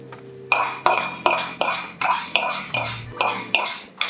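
Curry leaf tempering tipped from a metal pan into radish chutney, heard as a steady series of about ten sharp metallic clinks and taps, each followed by a brief ring, close and fairly loud.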